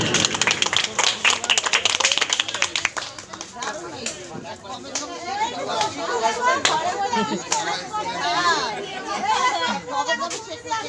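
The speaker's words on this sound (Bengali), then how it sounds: "দুর্গা মন্দিরের যে দর্শক থেকে জোরে হাতে তালি জোরে হাতে তালি" An audience at a Durga temple claps loudly and rapidly for a few seconds, then the clapping fades into busy crowd chatter and voices.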